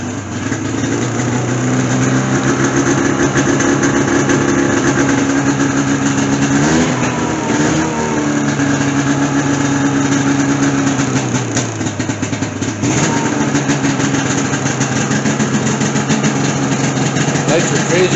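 A Polaris utility vehicle's engine started with a key and left idling, a loud, close, steady mid-pitched drone throughout, with slight changes in tone partway through.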